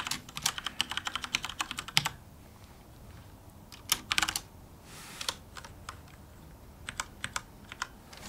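Quiet, rapid keystrokes on a computer keyboard while writing C# code for a Unity game-audio script, in bursts of clicks with short pauses and a few louder key hits, close and alone without speech.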